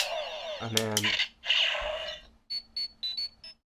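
Power Rangers Morpher toy playing an electronic key call-out: a tinny burst of synthesized tones and compressed voice from a small speaker, followed by a run of short beeping chirps.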